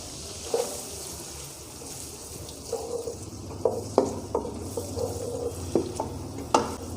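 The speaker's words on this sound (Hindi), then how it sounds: "प्याज को ब्राउन होने तक मैं भूनूंगा।" Chopped onions fry in a pan until brown while cooking Amritsari chole, a low sizzle running under intermittent stirring clinks and scrapes that grow louder and more frequent toward the end.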